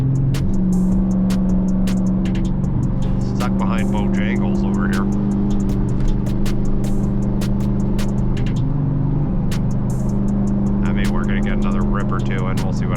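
Turbocharged Dodge Challenger SRT cruising on a highway, a loud steady low engine drone with shifting pitch and rising revs, while someone talks over it from inside the car.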